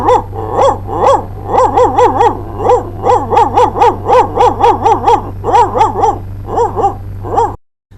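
A person mimics a dog, letting out a long run of loud, rhythmic barks and yips close by, with brief gaps between bursts.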